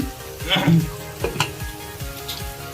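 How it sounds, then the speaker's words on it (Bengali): A fish curry with ginger-garlic paste, onions and salt sizzles loudly in the pan while a spoon stirs it in repeated, rhythmic scrapes close up. "তারপরে দেওয়া হয়েছে পেঁয়াজ দিয়ে নাড়া হচ্ছে"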